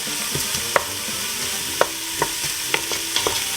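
Onions fry in a pan with a continuous sizzle, broken by several sharp clicks and scrapes of a utensil stirring against the pan, close and with no talk.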